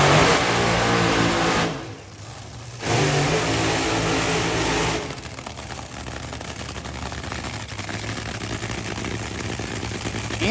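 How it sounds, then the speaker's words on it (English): A Top Fuel dragster makes a run at a Pro Superstar Shootout drag racing event: a loud, blaring engine roar fills the air, dips briefly, surges back and then settles into a sustained, slightly softer rumble. "here comes our final Top Fuel Dragster run of the evening"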